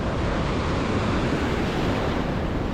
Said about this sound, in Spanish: Vaya oleaje que tenemos ahí.